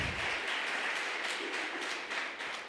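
A church congregation breaks into sustained applause, a dense, steady wash of many hands clapping together for the whole stretch, fairly loud and even, with no voices rising above it.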